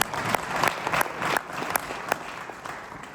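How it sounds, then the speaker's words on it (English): Applause from a conference audience, a dense spread of clapping that builds and then gradually thins, steady and fairly close with no talk over it. "Round of applause. Round of applause."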